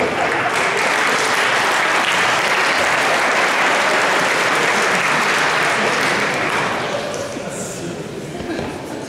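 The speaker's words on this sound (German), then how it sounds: "Ihr könnt euch mal selber klatschen." A table tennis crowd at a Bundesliga match between TV Hilpoltstein and SV Werder Bremen breaks into dense, loud applause that holds steady and then thins out toward the end, with voices mixed in.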